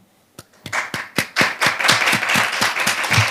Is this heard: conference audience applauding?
yes